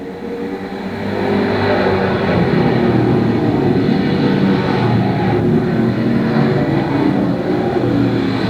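Pro-stock race cars at Can-Am Speedway accelerating out of turn four at a green-flag restart, their engines building within a second or so into a loud, dense, sustained roar of several cars together.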